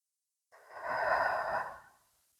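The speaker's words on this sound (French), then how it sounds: "tu peux prendre encore 3 grandes respirations" One long, deep exhalation or breath, soft and airy, swelling and fading over about two seconds with no speech, taken as part of a calm relaxation exercise.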